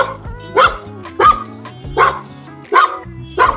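Dogs barking from behind a fence at a mansion in Hellshire, Jamaica, five loud, evenly spaced barks roughly every 0.7 seconds, close and clear over light background noise.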